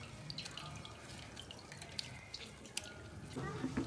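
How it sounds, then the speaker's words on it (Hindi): Water drips and trickles from almonds squeezed through a cloth while a drink is prepared. The sound is faint and close, with small splashes and scattered drops. "थोड़ा थोड़ा सा पानी गिर गया"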